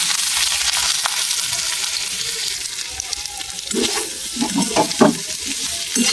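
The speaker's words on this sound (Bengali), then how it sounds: "পাঁচ ফোড়ন ফেলে দিলাম, এরপরে আলুগুলো দিয়ে দিলাম।" Potatoes and panch phoron frying in hot oil in a home kitchen, a steady broadband sizzle throughout with a few louder crackles and spatters near the end, no voices.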